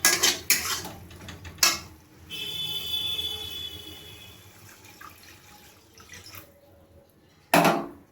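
A bowl of water poured into fried masala for a pabda fish curry, with loud clanks of dishes and utensils, a rushing splash and sizzle in the middle, then quieter clatter and a final bang.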